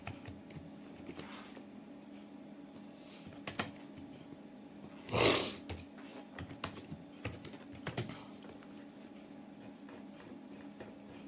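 Sparse, quiet key taps as text is typed into Microsoft Word, with scattered clicks over a steady low hum and a brief louder rustle near the middle.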